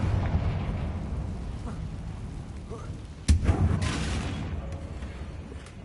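Blast of a Confringo fire spell in a Harry Potter video game: one sharp explosive burst landing about midway, trailing a short crackling tail above a steady background bed.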